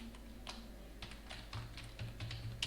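Typing C++ code on a computer keyboard: a quiet, steady run of light key clicks, close by, over a low background hum.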